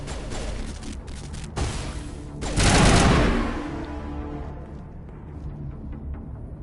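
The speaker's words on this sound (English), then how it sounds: "I also feel like these guns are way powerful than I remember." Sustained burst of video game gunfire in Mass Effect, a loud dense fusillade swelling to a peak partway through, then trailing into lingering rumbling reverberation with no voices over it.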